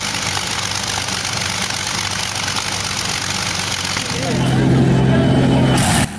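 A restored Packard-built aero engine in a huge car runs with a steady rumbling drone, then swells louder and rougher near the end before cutting back, with talk over it.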